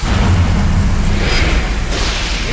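Thunder and rain as a dramatic sound effect: a loud, continuous low rumble of thunder with a broad hiss of rainfall over it, building and swelling steadily throughout with no voices.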